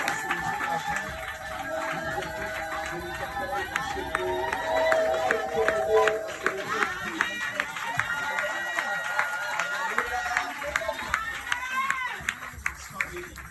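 A church congregation claps and cheers for a prophet standing in their midst, a continuous crowd roar with sharp hand claps that grow more distinct toward the end, mixed with music and voices.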